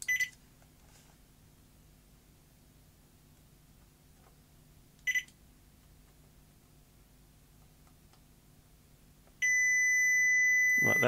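A multimeter beeps while testing the microswitches of a 1977 Philips N1700 video cassette recorder: two brief faint beeps, then a louder steady continuity tone at the end over low hum.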